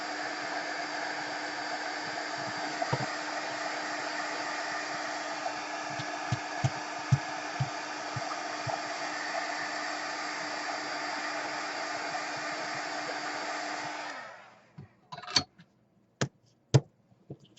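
A dryer blows a steady, loud rushing hiss over a painted art card for about fourteen seconds, then cuts off, leaving a few sharp taps and clicks nearby.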